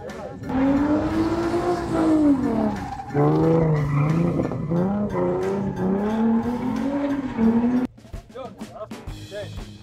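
A Ford Mustang spins donuts in place, its tires shrieking in a loud, wavering squeal that rises and falls continuously for several seconds, then cuts off abruptly into quieter engine and tire noise.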